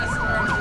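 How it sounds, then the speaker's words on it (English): Police car sirens at a Christmas parade in Vineland, a loud wailing siren sweeping up and down at close range over traffic rumble. "here come the boys in blue, the sirens playing in the background"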